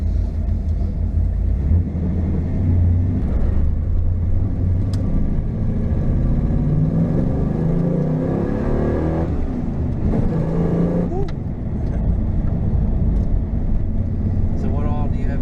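A 1994 Camaro Z28 V8 rumbles loudly from inside the car on a test drive, with its engine note rising and falling as it accelerates, and voices talking over it.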